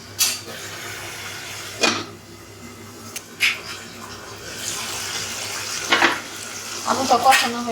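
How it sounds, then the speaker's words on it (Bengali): Potatoes sauté in a pan in a small kitchen while being prepared for a tangra fish curry, giving a soft steady sizzle broken by several sharp scraping stirs of a spatula against the pan. "আলুটা কষানো হয়ে গেছে"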